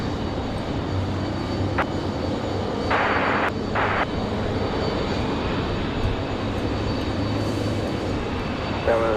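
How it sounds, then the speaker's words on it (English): A SkyWest CRJ 200 jet airliner landing at Raleigh-Durham airport, its engine noise a steady, distant rumble and hiss spread across the whole stretch, with a few brief bursts of noise partway through. "CRJ 200 came in on this side."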